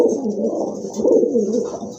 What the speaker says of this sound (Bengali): খুব সুন্দর এক জোড়া কবুতর আর অনেক বড় সাইজ